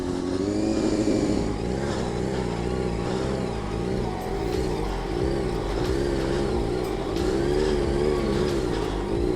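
A motorcycle engine held at steady revs with a rising and falling tone while the rider, seated, turns tight circles using only the foot brake, droning loudly and continuously up close.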